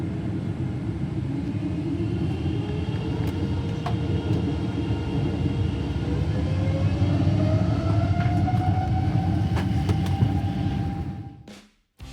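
Inside the cabin of a KLM Boeing 777 taxiing at Changi Airport, a steady low engine rumble fills the space while a rising whine builds midway. The sound cuts off abruptly near the end.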